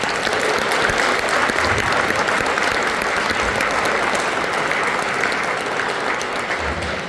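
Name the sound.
audience applause at band concert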